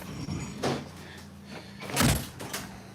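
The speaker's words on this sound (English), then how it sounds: "I think I might shut this door." A house door swings shut against incoming bugs, giving a couple of muffled thumps and a firmer closing knock near the end, close by with no talking.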